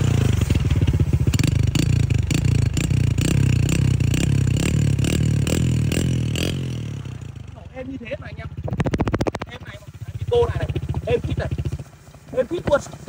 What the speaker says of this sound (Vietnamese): anh em nghe tiếng bô Tân Hòa mà nó bon không?